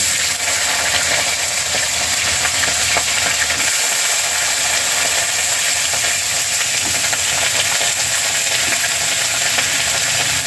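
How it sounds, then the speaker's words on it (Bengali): Cauliflower florets and potato pieces fry in oil tempered with whole cumin and dried red chillies, giving a loud, steady, close-up sizzle that runs unbroken throughout with faint stirring. "এখন আমি ফুলকপি আর আলু ভেজে নেব।"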